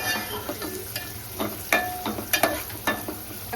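Chopped onion frying with masala in a pan, a steady sizzle broken by several sharp scraping stirs of a spoon against the metal, close and fairly loud with no talking.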